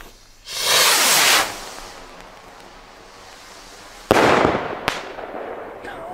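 A Gao Golden Willow New Year's Eve firework rocket launches with a loud hissing rush lasting about a second, then two sharp, loud bursts ring out later, each trailing off in a crackling echo.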